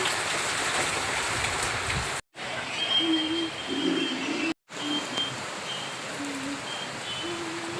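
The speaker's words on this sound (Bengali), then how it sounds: "প্রচুর পরিমাণে বৃষ্টি হচ্ছে আজকে সারাদিন খুব বৃষ্টি পড়েছে" Heavy rain pours down, heard from a rooftop as a constant broad wash of falling water. Two brief dropouts cut the sound, and faint tonal bits sit underneath the steady downpour.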